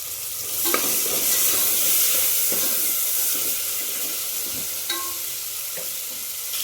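Tomato masala with turmeric powder sizzles steadily in a pan, a continuous frying hiss broken by a few clinks and scrapes of a spoon stirring, close and fairly loud with no voices.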